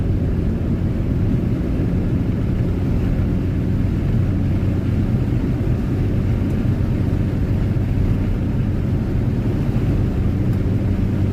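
A 1978 Honda Civic engine drones steadily while driving down the road under light acceleration, a continuous low rumble with road noise and no talking.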